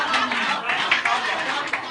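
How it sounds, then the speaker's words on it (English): A studio audience at a Nigerian live call-in family programme claps steadily throughout, a dense patter of hands mixed with crowd chatter and voices. "clap for her for Hausa language"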